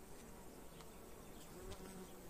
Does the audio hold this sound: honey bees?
yes